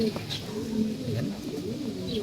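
Female pigeons cooing softly in a coop, low murmuring coos running continuously beneath a man's speech.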